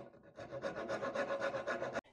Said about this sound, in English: it's like an aggressive file, and it has these really abrasive teeth